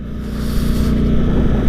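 A Ducati Streetfighter V4S motorcycle engine while riding, a steady, loud low drone mixed with wind rush, holding an even pitch throughout.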